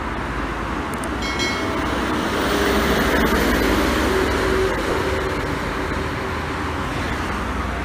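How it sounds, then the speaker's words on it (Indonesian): Heavy traffic rumbles past on a highway beside a rest area at KM 429 Ungaran, with a large bus passing close and loud amid continuous road roar and a brief high whine early on. "bus pertama yang lewat"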